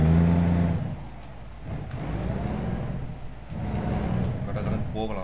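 A truck engine in American Truck Simulator, on a Utah route, hums and revs at a moderate level, rising and falling through the clip, with someone talking over it.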